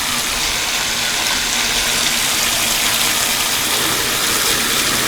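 Loud, steady rushing water flows continuously through a Python aquarium siphon hose turned on full blast, a dense broadband gush close up with no breaks and no voices.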